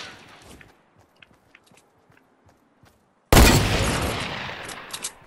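Gunfire in the video game Fortnite: after a few faint taps, a sudden loud burst of shots erupts and rings out, followed by a couple of further sharp cracks as the noise decays.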